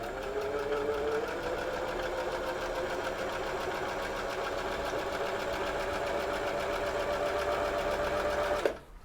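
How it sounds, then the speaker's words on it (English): An old Husqvarna sewing machine runs a straight stitch, a steady close whirring hum with a rapid mechanical needle chatter throughout, stopping abruptly with a small clunk at the end. "Let's turn it on. The presser foot. And we're just gonna try it on the straight stitch"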